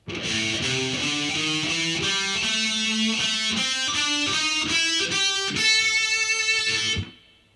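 A heavily distorted electric guitar plays a pentatonic minor blues scale in heavy metal style, a steady run of single notes one after another, loud and close, ending on a held note that cuts off abruptly.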